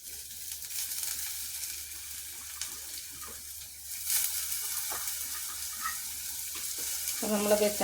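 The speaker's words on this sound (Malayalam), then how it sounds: "അപ്പോൾ നമ്മളത് ചാള ഒന്ന് പൊള്ളിക്കുന്നുണ്ട്." Sardines fry in coconut oil in a clay pot with a continuous crackling sizzle. It grows louder midway and is joined by stirring scrapes and a short tonal sound near the end.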